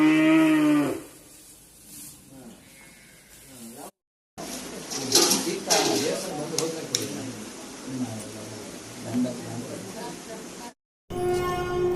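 A herd of cows at the Nilavara cow shelter, which holds over a thousand cows, with a few drawn-out moos among nearby voices talking and some outdoor rustling.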